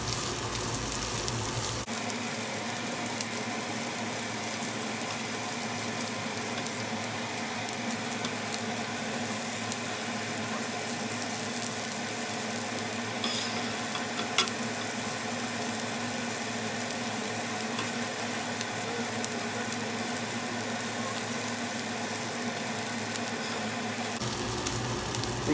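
Garlic cloves and a little onion fry in a pan with a continuous, even sizzle and crackle that carries on for the whole stretch, with no voices.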